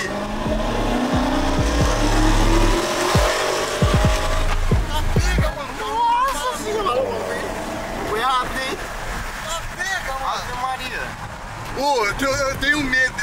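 A car engine revs and accelerates loudly near the start, with rising engine tones and thumping bursts, while people talk and shout excitedly over it throughout.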